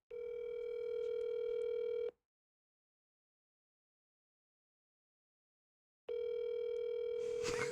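A telephone ringback tone on speakerphone sounds as a steady electronic purr for about two seconds, then silence, then the ring returns, close and clear with a brief rustle at the end.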